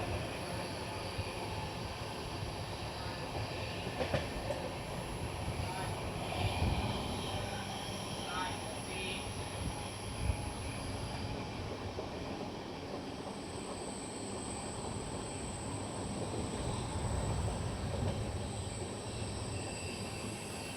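The 11097 Pune–Ernakulam Poorna Express rolls through green monsoon paddy country, giving a continuous rumbling clatter of wheels on rail with occasional faint squeals throughout.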